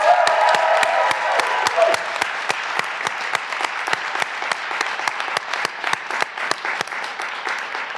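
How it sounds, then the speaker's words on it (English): Graduates and guests at a university commencement give a sustained round of applause, dense clapping holding steady for several seconds, with a brief cheer or whistle near the start. "one more round of applause for the entire class of 2021 Biopsychology grads."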